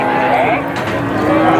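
Cattle moo at a busy cow market in Purwantoro, a loud, close bovine call with crowd noise and chatter running under it.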